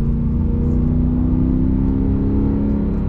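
A BMW M3 E90 V8 with full active exhaust, X-pipe and HFC drones at a steady, deep idle-to-cruise rumble, loud and close with no talk.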